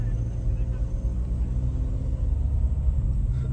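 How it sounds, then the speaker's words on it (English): A truck on a rural road in northern Thailand near the Golden Triangle, heard as a steady, deep rumble that stays loud and close throughout. "there's this truck here"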